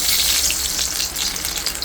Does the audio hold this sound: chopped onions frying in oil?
yes